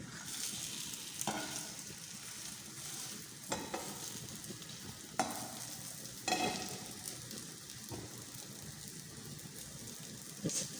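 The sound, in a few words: aloo kababs frying in a pan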